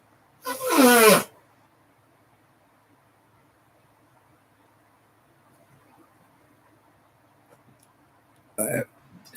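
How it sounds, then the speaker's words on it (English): A loud, drawn-out burp at the start, then a quiet stretch and a second shorter burp near the end. "Gross burps."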